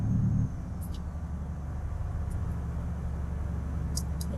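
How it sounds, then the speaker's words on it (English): A truck's engine brake in Euro Truck Simulator 2 on an evening drive through Germany: a steady, close, low droning rumble that holds constant throughout, with no talking over it. "Engine brakes."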